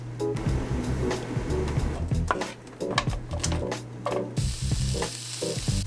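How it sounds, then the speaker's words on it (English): Brussels sprouts and carrot char in hot coconut oil in a pan in a boat's galley, a steady close sizzle broken by irregular scraping and clattering, with a low hum running underneath. "First, you're going to put in the Brussels sprouts and the carrot coconut oil and char them for a little bit in the pan."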